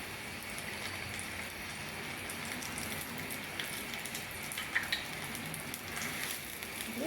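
Eggplant pieces frying in hot oil, a soft, continuous crackling sizzle like light rain, fairly quiet, with a few small pops and no talking.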